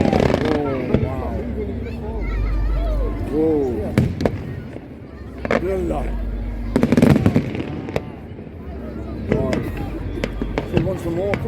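Fireworks at the Blackpool World Fireworks Championship 2023 burst in loud, sharp bangs and crackles, several in a row at uneven intervals, while excited voices talk and exclaim over them nearby.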